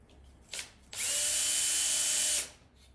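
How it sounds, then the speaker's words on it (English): Cordless drill driver working screws out of a coffee roaster popper: a short blip, then a steady high-pitched whine for about one and a half seconds before it stops, close up with no talk. "I think you can use the drill driver"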